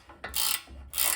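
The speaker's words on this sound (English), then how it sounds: "So I have an 18mm ratchet wrench and an 8mm ratchet wrench. And just unscrew it here." An 18mm ratchet wrench turns a ball joint nut on a 2019 F-150 with two quick bursts of crisp, close pawl clicking separated by a short pause.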